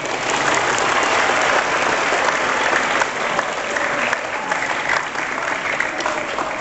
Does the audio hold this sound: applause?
yes